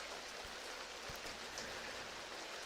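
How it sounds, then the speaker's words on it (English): Continuous rainfall, a dense even hiss of drops on surfaces with a few soft patters standing out, steady and fairly quiet with no voice. "Is the rain too loud?"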